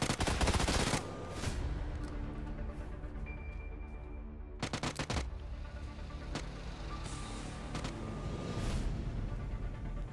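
Gunfire in the PUBG video game, with loud automatic bursts at the start and again midway, then scattered single shots over a steady vehicle-like rumble.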